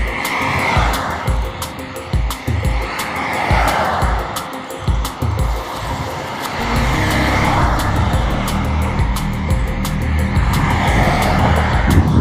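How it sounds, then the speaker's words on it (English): A string of cars sweeping past on a road one after another, engines and tires swelling and fading in a steady run of loud, close passes that blur into a continuous roar toward the end. "It's these cars. They sound like fucking UFOs passing by, dude."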